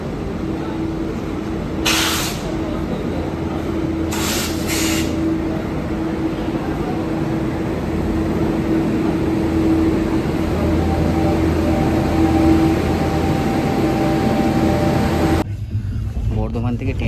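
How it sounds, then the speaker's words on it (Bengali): Steady rumble and hiss of a train pulling into a station, with low mechanical drone, brief bursts of hissing air, and a crowd chattering throughout. "ট্রেন ঢুকছে"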